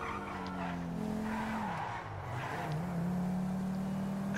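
Car in GTA V under a steady engine drone, with tires squealing into a long skid as the pitch wavers and dips, then settling into a sustained whine, fairly close and with no talk.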